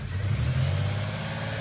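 A Toyota 4Runner engine runs at raised RPM with its mass airflow sensor removed, giving a steady, loud, close mechanical drone with a low, throbbing hum and no talk.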